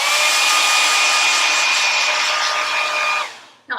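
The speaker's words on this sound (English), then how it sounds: "just my Conair blow dryer. It's 1875 watts." A Conair 1875-watt hair dryer blows with a loud, steady whooshing roar and a faint motor whine, close by, then cuts off near the end.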